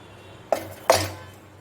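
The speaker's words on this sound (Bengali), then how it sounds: "এবার ঢাকা দিয়ে দিলাম" A metal lid set onto a kadai while a chana cake cooks, giving two short clinking knocks a moment apart, fairly close, with a faint hum behind and no talk.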